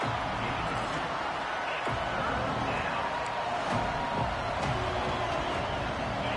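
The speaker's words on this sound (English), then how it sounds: "This crowd unhinged, trying to make sure the Gators don't back down on 3rd down" Stadium crowd noise in the NCAA Football 26 video game, a dense, continuous roar of fans at a Gators game holding steady and loud throughout with faint thuds underneath.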